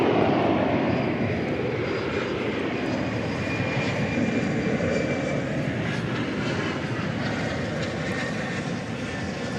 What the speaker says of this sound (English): the CRJ 701ER, arriving from Santa Fe, New Mexico